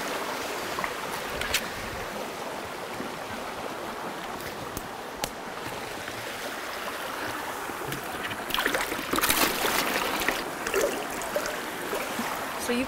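A creek flowing beside a remote turf-roofed cabin in Norway, a steady broadband rush of moving water that swells louder toward the end, with occasional faint knocks and no talk over it.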